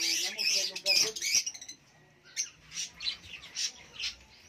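Harsh bird squawks come in repeated bursts, loud at first and then as spaced calls with gaps between them, with people chatting in the background.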